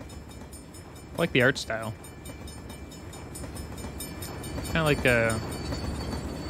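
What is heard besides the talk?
train sounds in the Little Devil Inside gameplay trailer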